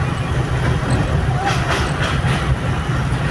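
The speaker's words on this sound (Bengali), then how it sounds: "এটা আবার ট্রেন যাচ্ছে" A train rumbling steadily past on a bridge, a constant low drone with faint rhythmic clatter, heard from nearby under talk.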